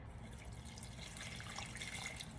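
Lukewarm water poured into a bowl of wacky cake batter along with oil, a steady, soft splashing trickle that runs continuously for a couple of seconds at close range with no talking.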